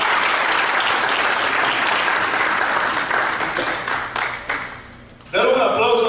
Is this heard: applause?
yes